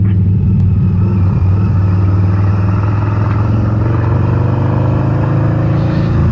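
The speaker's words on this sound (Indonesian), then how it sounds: "Suaranya agak sedikit beda dengan rata-rata Harley ya. Ya soalnya tipe mesinnya dia beda, mesin Revolution." A 2012 Harley-Davidson V-Rod Muscle 10th Anniversary motorcycle with its liquid-cooled Revolution engine idles nearby in a loud, steady, smooth rumble, holding a constant low throb without revving.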